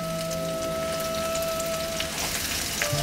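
Garlic, shallots and chili fry in hot oil with a constant soft, rain-like sizzle, steady throughout and slightly louder near the end, with no talking.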